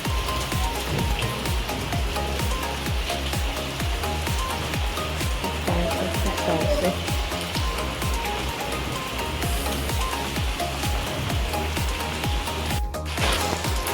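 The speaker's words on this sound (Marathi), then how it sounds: "पावसाने खूप जोर धरला आहे." Heavy evening rain in a Konkan village near Chiplun, a loud continuous wash of drops with dense patter, steady throughout and without voices.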